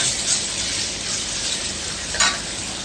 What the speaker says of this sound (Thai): ผัดให้เข้ากันเลย